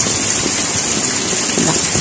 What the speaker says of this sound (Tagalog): Hindi na mas ang kalakasan ng ulan, pero sobra talagang lakas ng hangin kanina pa.